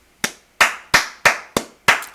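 Six sharp, close hand claps in an even, slightly slow rhythm, each loud and crisp with a short decay, alone with no talk.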